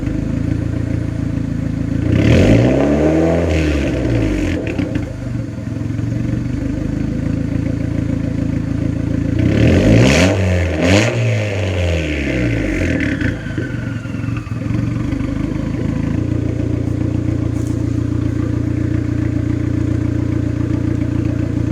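A Ford EF car engine fitted with a newly welded exhaust, small exhaust leak at a rear weld, idling steadily with two strong rev bursts that rise and fall, loud and close.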